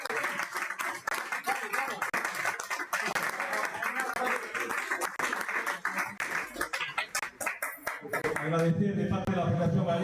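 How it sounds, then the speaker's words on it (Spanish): Audience applause at a Galician club spearfishing championship ceremony, a dense, sustained burst of clapping from a crowd with a voice over it toward the end. "Un fuerte aplauso, por favor."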